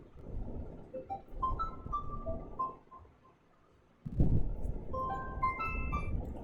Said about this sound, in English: sorry for the unexpected phone call